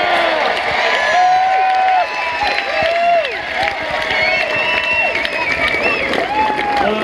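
A crowd at a protest gathering breaks into applause and cheering with scattered whoops, a steady dense roar of clapping and voices lasting throughout without pause.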